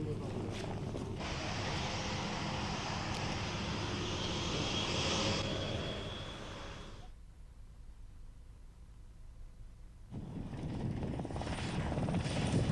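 A helicopter's rotor roar grows and holds loud as it approaches a helideck, drops away to a quieter rumble, then surges back in strongly.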